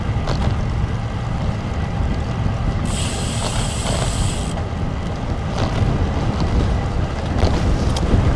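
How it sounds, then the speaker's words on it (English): Strong, steady wind roaring against the microphone outdoors during a walk along a street, a constant loud buffeting rush with brief gusty swells and no talking. "The wind is not getting any less."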